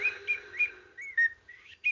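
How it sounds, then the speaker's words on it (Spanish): Thin, high whistled notes repeat in quick short bursts, a bird calling clearly with brief pauses between phrases. "Era tan fino el chiflido de aquel pájaro"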